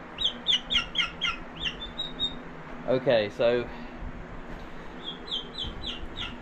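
High, rapid chirps and peeping calls repeat in bursts from turkey chicks close by, with a brief squawk and a voice speaking in the middle.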